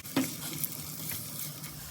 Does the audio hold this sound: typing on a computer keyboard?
no